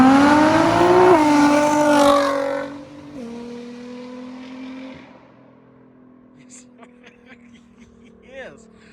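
A Nissan GTR with a catless 4-inch straight pipe exhaust and 5-inch titanium tips revs loudly nearby, pitch rising then dropping, before fading into a steady lower drone as a voice talks over it.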